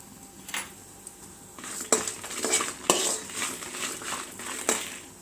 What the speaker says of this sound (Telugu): అందులో కొన్ని మిరపకాయలు కొద్దిగా జీలకర్ర వేసి వేయించుకోవాలి